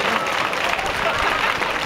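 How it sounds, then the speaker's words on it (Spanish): Crowd applause at a bull-dodging (recortadores) contest in Alagón, a dense steady wash of clapping with some voices mixed in, fairly loud throughout. "Vamos a darle un fuerte aplauso a Pedro Hurtado."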